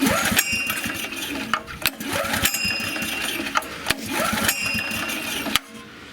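A 1990s Honda EG2200X 2.2 kVA generator is pulled repeatedly in failed attempts to start it, giving three or four loud, rhythmic recoil-cranking bursts close by, each ending in a sharp clack, with no engine catching.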